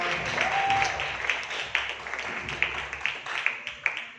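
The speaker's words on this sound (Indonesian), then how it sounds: "Kita beri aplaus, tepuk tangan untuk kita semua." Audience applause at an Indonesian marketing-plan training presentation: a steady wash of clapping from a room of people, softening into scattered individual claps toward the end, with a brief voice early on.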